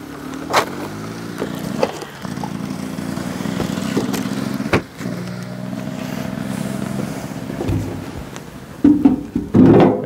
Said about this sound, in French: Et un enduriste en moto.